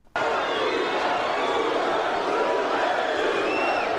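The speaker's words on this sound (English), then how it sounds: "And the crowd with that chant of Luger," A wrestling arena crowd at NWA Clash of the Champions VII chants the wrestler Luger's name, a loud, sustained roar of many voices that starts abruptly and fills the whole stretch.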